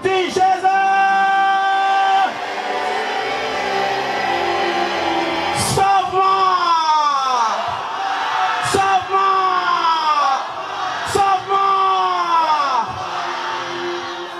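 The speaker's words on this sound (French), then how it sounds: "Alors crie encore plus fort que Timé, pas Timé, dis Jésus!" A large worship crowd at a religious gathering yells and shouts loudly in repeated surges, voices rising and falling together with sharp whoops and cries.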